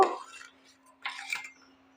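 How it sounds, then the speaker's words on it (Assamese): A spatula scrapes and knocks against a pot while stirring hot milk to cool it, two short clattering bursts with quiet pauses and a faint steady hum underneath. "এতিয়া মই গেছ অফ কৰি 2 মিনিট সময় হেতাখনেৰে এইদৰে লৰাই অলপ ঠাণ্ডা কৰি ল'ম।"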